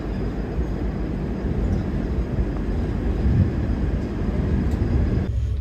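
A goods train passes beside a halted passenger express, producing a continuous heavy low rumble and rolling clatter that stays loud and even, then drops off abruptly near the end.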